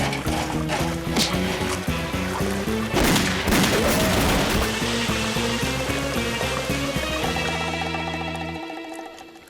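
Rapid cartoon gunshots ring out in a Lucky Luke western, a dense volley of sharp bangs over busy music and effects. The volley fades near the end.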